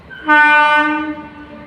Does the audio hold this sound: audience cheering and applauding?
no